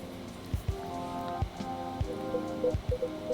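Rain ambience in the video game Coffee Talk 2 gives a soft continuous patter under gentle melodic music tones that come and go at a moderate level.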